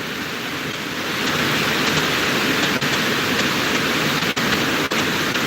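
Steady rain pours down on a homestead, a dense continuous hiss that swells slightly after the first second and holds level, with a few faint ticks of drops striking nearby.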